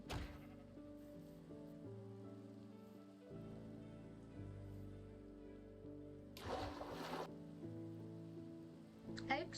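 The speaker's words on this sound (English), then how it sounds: "It started raining." Steady rain falling in the Minecraft video game, a soft continuous hiss under tonal game music with a brief louder burst of noise midway.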